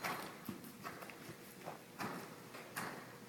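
Horse trotting during a riding lesson, hoofbeats landing in a steady, moderately distant rhythm on an arena surface, fairly faint with no talk over them.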